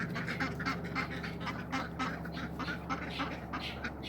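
Ducks on a farm quack repeatedly as they scatter across uncovered ground near a bird house, a busy overlapping chorus of nasal calls at close to middle distance with no talking.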